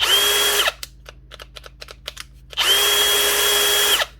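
A dropped and damaged Bosch cordless drill runs in two bursts, each a loud, close motor whine that spins up, holds steady and winds down, separated by a series of sharp clicks and knocks from handling the tool.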